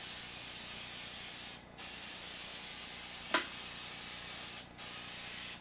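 A can of black spray paint hisses in a steady, continuous stream, close by and fairly loud, broken by two brief pauses and one short click.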